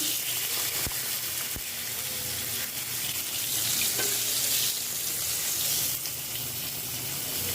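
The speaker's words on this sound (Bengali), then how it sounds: "মাছগুলো ভাজা হয়ে গেছে আর এখন হচ্ছে দিয়ে দেব পটল আলুর মধ্যে" Fried rohu fish is added to a pointed gourd and potato curry cooking in a pan. A continuous close sizzling and bubbling goes on throughout, broken by a couple of sharp clinks early on.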